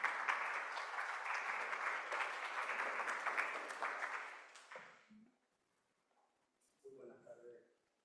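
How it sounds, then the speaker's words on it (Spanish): An audience at an education seminar in Peru bursts into sustained applause, dense and steady for several seconds before fading out, followed by a few faint clicks and a brief murmur. "Recibimos con un aplauso,"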